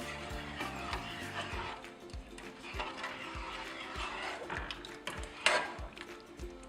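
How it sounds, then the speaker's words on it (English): Dal with shredded coconut being stirred in a pan, a spoon scraping and knocking against the metal in a steady rhythm of repeated clinks, up close with background kitchen noise. "Mix it well."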